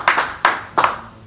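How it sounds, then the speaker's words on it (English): Three separate bursts of clapping from a small audience come in quick succession, each a sharp, close cluster of a few hands that fades rapidly. "Yeah, clap for her."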